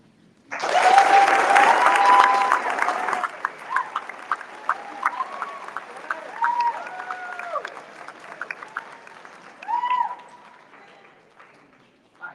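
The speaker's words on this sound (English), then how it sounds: "I think they deserve your appreciation and definitely a round of applause" Audience applause at a state conference opening ceremony: a burst of dense clapping rises sharply, holds for a few seconds, then thins into scattered individual claps with a short swell near the end.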